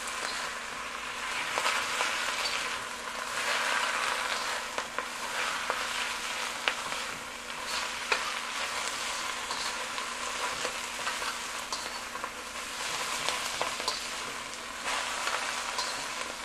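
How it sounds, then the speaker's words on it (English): A mix of oyster sauce and fish sauce sizzles steadily as it is stirred into a hot wok, a bright crackling fry with scraping stir sounds, moderately close and continuous. "I'm just going to stir in this combination of the oyster sauce and the fish sauce"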